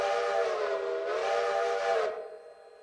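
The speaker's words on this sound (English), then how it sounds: "We do have our whistle." A steam locomotive whistle in the Railroader video game blows one long, loud, steady chord-like blast for about two seconds, with a brief dip in the middle, then cuts off and fades into quiet hiss.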